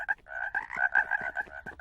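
A cartoon frog croaks in a rapid, close, throaty burst of about ten pulses with no other sound around it.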